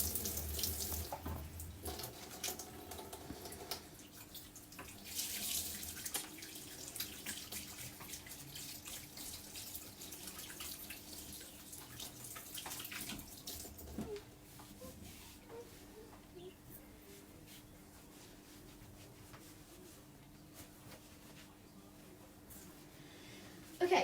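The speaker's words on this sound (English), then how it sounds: "everybody wash your hands" Tap water runs steadily into a sink during handwashing before a kids' brownie cooking class, a continuous close splashing hiss with small clatters and a louder knock at the end.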